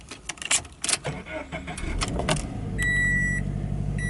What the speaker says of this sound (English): Engine sounds pretty good.